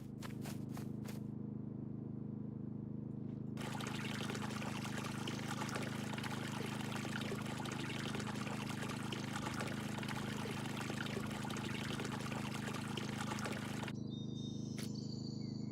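Water is drawn from a well in SCUM, a steady rushing pour lasting about ten seconds over a constant low hum, with faint clicks before and after.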